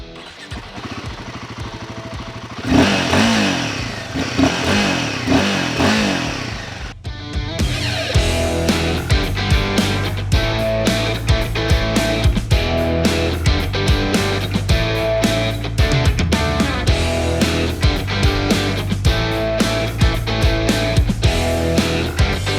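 A 2024 Royal Enfield Himalayan 450 motorcycle starts, then its single-cylinder engine idles and revs repeatedly, loud and close, with steady rhythmic throttle blips over a constant running drone.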